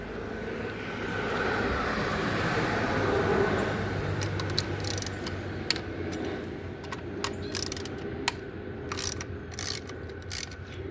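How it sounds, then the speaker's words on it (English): A ratchet turning a T40 bit while working on a misfiring engine, producing rapid clicking pawl ticks that grow busier and more irregular over a steady background hum, close and moderately loud. "T40, here it is, ratchet"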